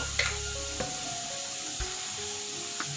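Vegetables frying in a pan for chire pulao, a flattened-rice dish, give a steady soft sizzle. A few faint clicks and scrapes of stirring break in now and then.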